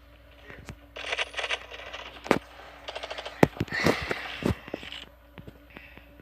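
AK rifle gunfire in the mobile shooter game Standoff 2, heard as a handful of sharp separate shots and short bursts over a steady game background hum, fairly close.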